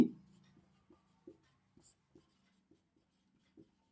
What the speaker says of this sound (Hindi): अच्छा डायरेक्ट यहीं पे देखिए लिख देते हैं